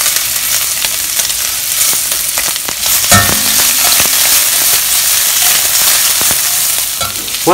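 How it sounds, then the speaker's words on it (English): Prawns frying in a hot wok for Singapore-style fried vermicelli, a loud continuous sizzle close up with occasional clanks and scrapes of stirring. "I'm cooking the prawns first because I don't want to overcook the prawns."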